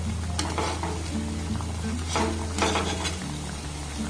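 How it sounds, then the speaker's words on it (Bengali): Flour and sugar sweets deep fry in oil, a loud continuous bubbling sizzle with occasional stirring clinks, close up and without speech. "এইভাবে উল্টে পাল্টে আমি লাল লাল করে ভেজে নেব"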